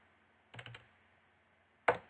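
Computer keyboard keys are pressed in a quiet room: a quick cluster of three light clicks, a pause, then one firmer keystroke.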